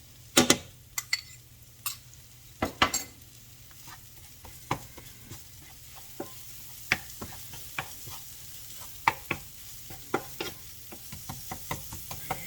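Freeze-dried scrambled eggs with cheese stirred in a pan, giving a steady faint sizzle broken by repeated sharp scrapes and taps of the utensil against the pan, irregular and close.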